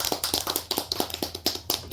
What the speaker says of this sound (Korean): 우리 다 같이 남한우 회장님을 큰 박수로 부탁드립니다.